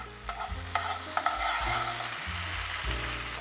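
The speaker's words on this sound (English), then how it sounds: "We're gonna toast it a little bit because we don't want the pasta to be dry." Minced garlic and pasta toast in a hot pan for shrimp scampi, giving a steady close sizzle broken by a few sharp scrapes and clicks of stirring.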